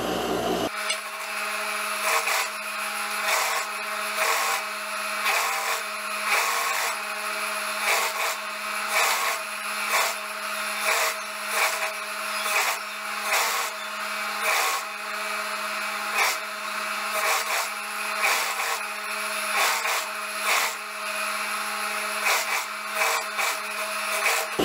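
A sewing machine runs a folded, overlocked hem on a tulip-sleeve blouse, giving a close, continuous mechanical whir with a steady pulsing rhythm, heard alone.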